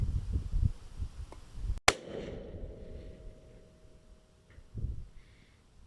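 A single sharp rifle shot fired on a long-range shooting course, one loud close crack followed by a ringing tail, with quieter handling and wind noise before and after.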